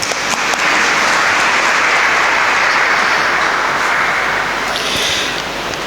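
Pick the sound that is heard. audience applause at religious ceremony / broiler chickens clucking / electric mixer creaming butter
audience applause at religious ceremony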